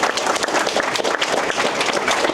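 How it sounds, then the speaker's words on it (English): Steady round of audience applause from a live show crowd, dense clapping sustained evenly throughout at close range, with no talking over it. "we'll give you a round of applause"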